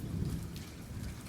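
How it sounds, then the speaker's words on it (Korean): Heavy rain drums on a car during a nighttime drive through a tunnel area, a dense, continuous roar of drops pattering on the body and roof, steady and close with no voices. "빗방울이 차를 두드리는 소리가 더욱 시끄러워졌어요"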